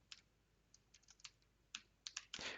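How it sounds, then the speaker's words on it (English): Someone types a command on a computer keyboard, a quiet burst of about a dozen light key clicks in uneven rhythm, ending with a louder, longer clatter of keystrokes. "I'm going to type in sudo dnf module"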